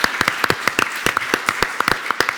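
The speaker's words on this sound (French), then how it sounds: "Applaudissements pour Stéphane Dallier." Scattered hand claps from a small studio audience on a French television talk programme, a sparse, uneven patter of individual claps up close rather than a full roar, lasting a couple of seconds.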